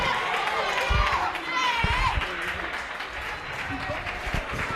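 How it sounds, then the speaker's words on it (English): Standing ovation from a light crowd in a church hall, applause running steadily throughout with voices and crowd murmur mixed in. "he's going to get a standing ovation from this light church crowd"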